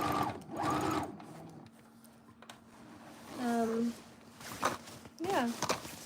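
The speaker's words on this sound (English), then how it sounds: "you would have to serge all around the edges, then sew it together" A sewing machine or serger stitches fabric panels in short bursts of mechanical whirring, with people talking close by in between and over the stitching.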